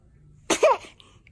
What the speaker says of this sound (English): Ay, ay, ay, esos estornudos.